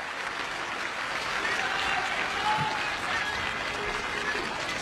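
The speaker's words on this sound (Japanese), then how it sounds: "スタンドから大きな拍手が送られました。" Baseball stadium crowd applauding from the stands after a center-field hit, a steady dense wash of clapping and cheering that holds at an even, fairly loud level throughout.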